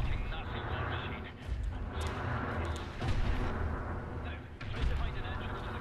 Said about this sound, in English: Let's try a plethora of hand grenades.